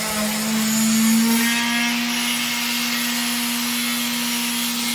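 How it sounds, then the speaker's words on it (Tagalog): A steady mechanical whine hums on with a broad gritty hiss, like a power sander running continuously at close range, sanding a terrace ceiling. "puro liha lang pala tayo dito."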